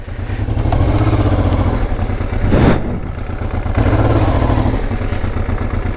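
A motorcycle without knobby tyres idles loud and close, its steady engine rumble rising briefly as it is shifted into first gear, with a clunk and some clatter partway through.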